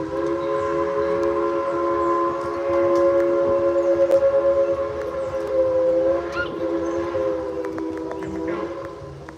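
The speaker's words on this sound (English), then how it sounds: "I love that the sound of that whistle." A Tweetsie Railroad train arrives during a 4th of July departure, its whistle sounding a long chord with a steady rumble of rolling cars beneath, heard from a moderate distance.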